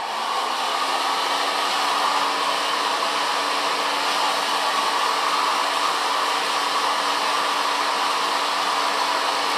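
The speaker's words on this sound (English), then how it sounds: "Blow dry it with a big brush." A hair dryer blows steadily while hair is styled with a large round brush in a salon, a loud, constant close-up whoosh that runs unbroken throughout with no voices.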